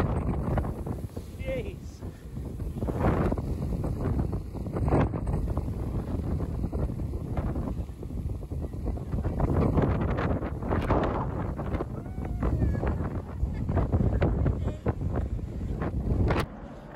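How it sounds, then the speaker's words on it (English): Breezy wind gusts across the microphone outdoors near Albany, Western Australia, a steady low rumble with fluctuating bursts lasting the whole stretch, while a voice talks briefly over it. "Bit breezy."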